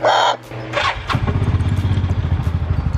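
A UTV engine starts up close by: a brief clatter and thump as it cranks, then it catches and settles into a steady, pulsing idle.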